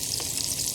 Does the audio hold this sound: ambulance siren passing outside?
no